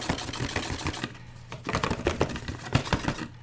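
The cardboard shipping box of a Succubus tabletop miniature rustles and crinkles up close in irregular bursts of dry scraping and tapping, with a short quieter stretch in the middle.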